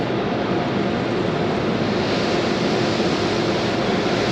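Car wash water spray rinsing off a small RV, a dense continuous hissing roar of jets drumming on the body, loud and close, steady for the whole stretch with no talking.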